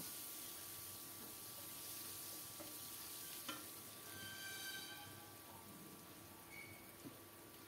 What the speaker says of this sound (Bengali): একটা মাঝারি সাইজের পেঁয়াজ কুচিয়ে দিয়ে দিলাম পেঁয়াজটাকেও একটু লাল লাল করে ভেজে নেব